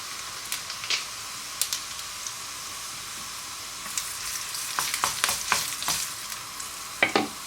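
Cumin seeds crackle and sizzle in hot oil turning golden for a tempering, with scattered sharp pops over a steady frying hiss that builds toward the end, close and fairly quiet, no talk.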